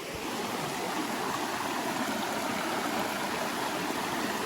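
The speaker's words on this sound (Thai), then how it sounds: "ตอนนี้ผมก็ได้มาตรงลำธารแล้วนะทุกคน" A mountain stream in a Thai forest flows steadily and close by, its broad rushing water noise continuous and unbroken with no voices.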